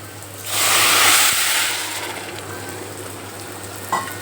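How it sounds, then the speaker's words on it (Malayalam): Water poured into jeerakasala rice fried in ghee bursts into a loud sizzling hiss that peaks quickly, then settles into a softer steady simmer, with a small clink near the end. "നമ്മളൊരു 4 ഗ്ലാസോളം വെള്ളം ഒഴിക്കാൻ നമുക്ക് വേണ്ടി."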